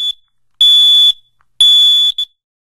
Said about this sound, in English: Test all your smoke alarms at least once a month by pushing the test button like this.